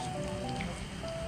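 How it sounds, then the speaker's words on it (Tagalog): Heavy monsoon rain falls steadily at a Boracay resort pool area during flooding, a dense continuous hiss of drops striking surfaces with a faint tonal hum underneath and no one talking. "medyo malakas ang ulan"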